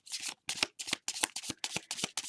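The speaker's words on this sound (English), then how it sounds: "Now, I'll shuffle this deck and I'll get us a card for inspiration." A tarot card deck being shuffled by hand in quick, close bursts, eight or so crisp riffling rustles separated by brief pauses, with no talking.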